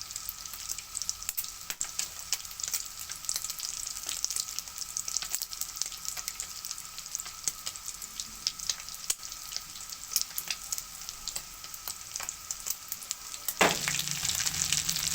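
Spiced potato cutlets (aloo kabab) fry in a pan with a soft, steady crackling sizzle that stays fairly quiet, then briefly shifts and grows a little louder near the end.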